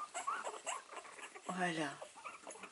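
A Staffordshire bull terrier puppy whimpers and squeaks in short high whines, with a longer wavering cry in the middle, close up while someone talks softly.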